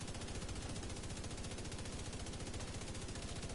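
A light machine gun in a first-person shooter game fires a long, unbroken rapid burst, steady dense rattling shots close up and loud for several seconds, with no voices over it.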